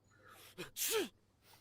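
A single sneeze during a DayZ Standalone livestream, a short sharp burst preceded by a quick breathy intake, fairly faint and close.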